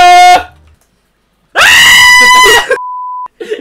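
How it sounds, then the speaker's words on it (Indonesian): A player shrieks loudly while playing a parkour game, one short scream followed after a pause by a longer, louder strained yell, then a brief steady electronic tone and a faint sound at the end. "Teriak terus dari tadi."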